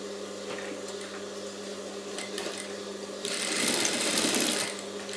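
Domestic sewing machine stitching blouse pieces with lining, a steady motor whir running throughout and growing louder and faster near the end, with no talk.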